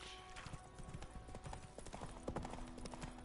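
Horse hooves galloping in The Witcher 3 video game, a steady rapid clip-clop rhythm running throughout under busy game ambience, fairly quiet overall.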